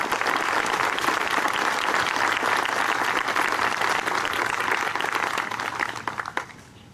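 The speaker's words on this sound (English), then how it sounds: "Let's give them a big round of applause and a Semper Fi." Sustained applause from an outdoor Memorial Day ceremony crowd honoring United States Marines, dense and even for several seconds before tapering off at the end.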